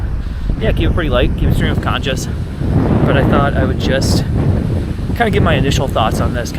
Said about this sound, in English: I know it's pretty windy out here